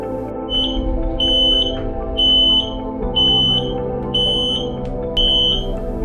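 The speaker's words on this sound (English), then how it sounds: "the alarm just went off. It's the alarm from the engine room." A ship's engine room alarm sounds in repeated short high-pitched beeps, about one per second, over a constant low mechanical hum.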